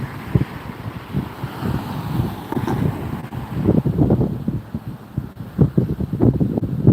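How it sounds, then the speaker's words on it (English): Strong, gusty wind buffets the microphone at Las Vegas airport, roaring in uneven surges with thumping low rumbles of about 35 mph gusts, continuous and loud throughout. "You can hear that wind whipping around me here. 35-mile-an-hour gusts."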